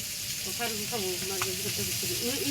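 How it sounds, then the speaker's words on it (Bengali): Fish frying in a pan gives a steady hiss and sizzle, with brief stirring noises and a faint voice talking in the background. "এই যে মাছ ভাজা হইছে"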